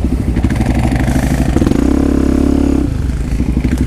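A Suzuki DR-Z400 SM motorcycle engine runs up close, loud and steady, rising in a brief rev before settling back to its throbbing note.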